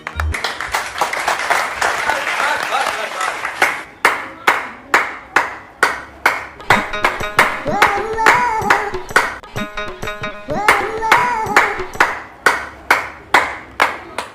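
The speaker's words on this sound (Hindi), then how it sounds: "हमारी पुलिस की टीम को तो ताली बजाइए सबके लिए" A group claps in unison in applause for doctors and police, with sharp rhythmic beats at a steady pulse broken into several bursts and brief voices heard between them.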